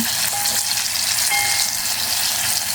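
Pointed gourd frying in a pan, giving a loud, steady sizzle with a faint tonal whine, close and continuous without speech.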